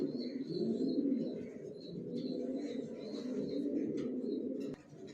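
Big-sized original racer pigeons coo in a dense, continuous low rumble at close range, with faint higher chirps scattered over it.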